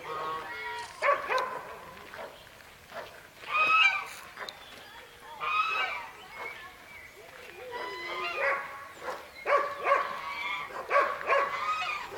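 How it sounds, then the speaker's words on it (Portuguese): Several dogs bark and yip repeatedly nearby in irregular bursts, with voices faintly talking in the background. "tem uns cachorros bravos aqui"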